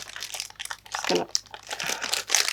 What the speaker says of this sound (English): rip through the plastic.